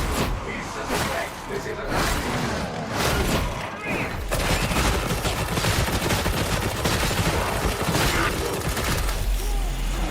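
Rapid bursts of auto pistol fire in a video game, repeated rattling volleys with short pauses, loud and close, mixed with thuds and other combat noise.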